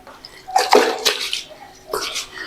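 Clothes being washed by hand with soap and water, short bursts of splashing and sloshing in a basin, close and fairly quiet with pauses between.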